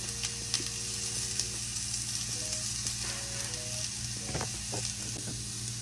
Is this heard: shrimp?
yes